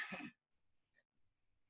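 A single short, quiet cough from a presenter during an Indonesian online seminar on corporate criminal liability in taxation, followed by near silence.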